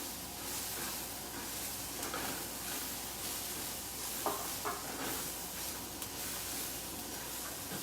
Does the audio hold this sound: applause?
no